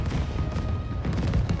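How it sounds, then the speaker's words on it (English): Fireworks bursting in the video game Marvel's Spider-Man 2, a dense, continuous barrage of crackling pops and booms at steady loudness throughout, with no voices over it. "With the fireworks too?"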